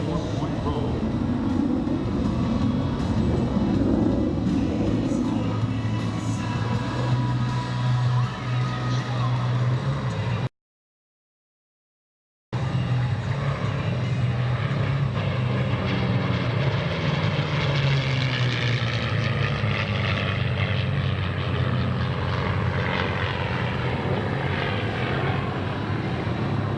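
F-35A Lightning II fighter jet performing an air show demonstration, a loud sustained roar of jet engine thunder that shifts in pitch as it passes, with a brief gap of silence midway and an announcer's voice partly audible.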